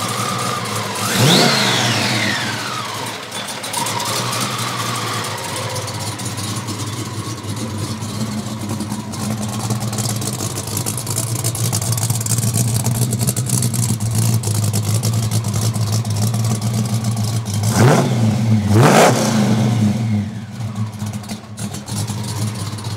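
A supercharged 1966 Ford Mustang engine idling loudly up close, with sharp revs near the start and end whose rising and falling blower whistle sweeps over the steady rumble.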